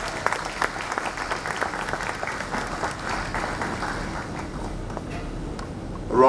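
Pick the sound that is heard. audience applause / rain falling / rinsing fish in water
audience applause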